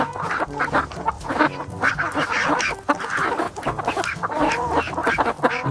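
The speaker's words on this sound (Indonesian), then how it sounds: "Wow, seekor ayam." A toy animal makes a loud electronic chicken sound, with repeated clucking and squawking calls in a rapid, busy pattern.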